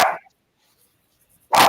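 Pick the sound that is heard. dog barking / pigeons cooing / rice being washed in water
dog barking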